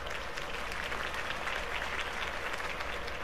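A crowd breaks into sustained applause after Harvey Dent's campaign speech about saving the city in a Batman game episode. The clapping is dense and steady, holding at an even level throughout with no talking.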